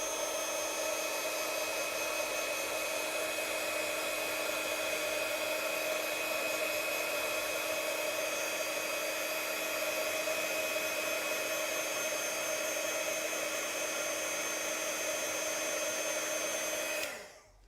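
A hair dryer blows steadily on a watercolor painting, a loud, constant whir with a whining hum that runs unbroken for the whole stretch and then cuts off at the end.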